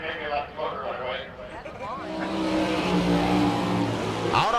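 An All Stars sprint race car roars at a speedway, its engine droning loud and steady with rising revs, while a voice talks over it.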